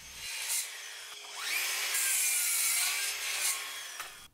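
A Bosch 18-volt cordless saw, blade tilted to 10 degrees, cuts an angle across the bottom of a wooden leg for a clothes rail: a steady, close, rasping whine that swells midway and fades at the end, with no talking.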